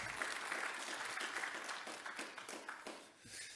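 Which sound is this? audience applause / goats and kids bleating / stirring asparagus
audience applause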